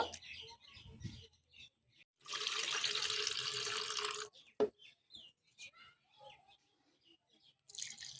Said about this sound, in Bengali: চিঁড়েটাকে ভালো করে কষলিয়ে 3 থেকে 4 বার জল দিয়ে ভালো করে ধুয়ে নেব।